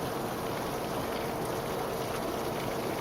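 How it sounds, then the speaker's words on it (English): Light afternoon rain falling steadily, a soft, even patter and hiss heard from nearby without pauses or voices. "we had a little rain here"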